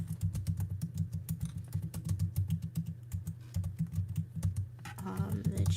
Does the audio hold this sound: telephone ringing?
no